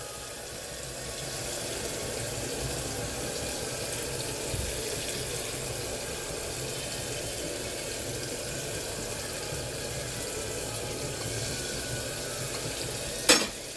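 Spices sauté in oil in a pan over medium heat for a torai and chana dal sabzi, giving a constant soft sizzle with a sharp clatter near the end.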